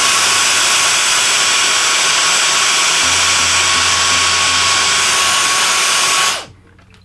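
An electric air duster blows dust from the ports of a PS5 Pro in a loud, steady, high-pitched rush that holds for about six seconds, then cuts off abruptly into near silence.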